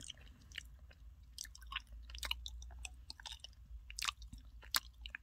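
Close, quiet chewing of firm, rubbery peach jelly, with soft squishy bites and occasional sharper crunchy clicks spread irregularly through the mouthful, heard alone without talk.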